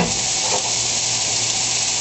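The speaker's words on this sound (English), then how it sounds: "we're just going to cook this until the peppers get slightly soft" Sliced red and green peppers stir-fry in a hot pan, giving a loud, continuous close sizzle with faint scraping as they are tossed, no voices.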